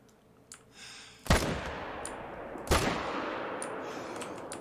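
Two loud, sharp rifle cracks sound in theHunter: Call of the Wild during a wolf hunt, about a second and a half apart, and each one trails into a long, rolling echo over a quiet outdoor background.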